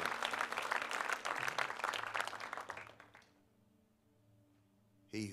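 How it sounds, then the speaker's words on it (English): Congregation applause at the close of a church service, a dense burst of many hands clapping that swells for about three seconds, then fades abruptly into near silence before a short noise at the end. "Can we give Jesus one more clap of praise?"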